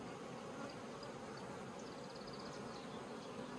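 Honeybees hum around nucleus hives in a faint, continuous buzz heard outdoors, with a few individual bees passing a little closer.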